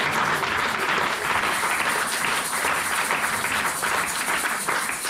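A church congregation applauding, steady, loud clapping from a crowd sustained without a break.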